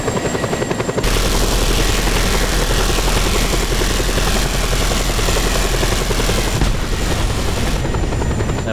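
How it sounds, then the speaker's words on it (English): A helicopter in the video game Just Cause 2 whirs loudly and steadily with a constant rotor drone after a brief, quieter choppy start, holding close and uninterrupted. "I went for miles to find this chopper"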